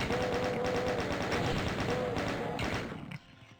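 Shotgun blasts in the DOOM video game as the player fights imps and revenants, a fast run of sharp, loud reports that stops abruptly near the end.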